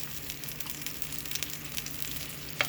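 Whole spices including a cinnamon stick, cloves, cardamom pods and bay leaves sizzle softly in oil in a curry pan for a Sri Lankan lamb curry, with light stirring scrapes and a sharp clink near the end.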